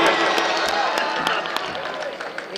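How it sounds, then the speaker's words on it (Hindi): Audience clapping to welcome a guest at a charitable committee gathering, dense crowd applause with scattered sharp claps and background voices, steady and fairly loud. "बस आप सब लोग तालियों से इस्तकबाल कर लीजिए।"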